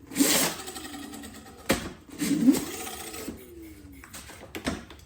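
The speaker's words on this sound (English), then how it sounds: "Front and rear motors work." Front and rear 48V hub motors on a Razor MX350 electric dirt bike whir in short bursts, each rising whine followed by quieter gaps and a few clicks, close by.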